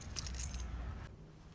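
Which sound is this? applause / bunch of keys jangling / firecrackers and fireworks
bunch of keys jangling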